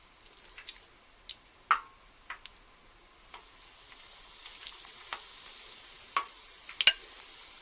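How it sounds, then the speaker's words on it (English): Spoonfuls of corn fritter batter fry in hot oil, giving a steady, soft sizzle with scattered sharp pops and crackles that grows slightly fuller as the frying goes on. "you're going to drop this by tablespoons into the oil"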